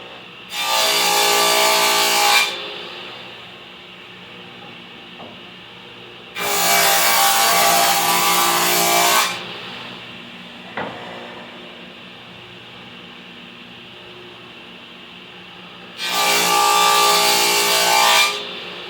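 Three separate passes of a table saw through a wooden raised panel, each a loud, bright cutting burst of about two to three seconds. Quieter gaps of motor hum and faint shop noise lie between the cuts.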